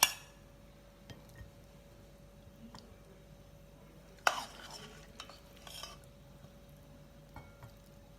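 A melting cheese mixture is stirred in a pot, heard as quiet scattered utensil clicks and scrapes, with one sharper clatter midway followed by a brief burst of stirring, over a faint steady hum.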